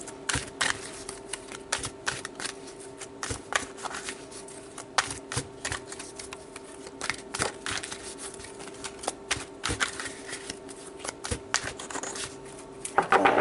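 Tarot cards are shuffled close up for a long stretch, a rapid papery riffling and flicking in bursts, with soft taps and pauses between them.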